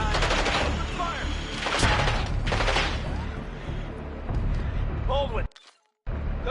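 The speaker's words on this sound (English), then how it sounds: "Open fire!" Rapid gunfire and explosive bursts in the Call of Duty Black Ops 6 video game, loud and continuous with a brief silent gap near the end, and soldiers shouting orders over the shooting.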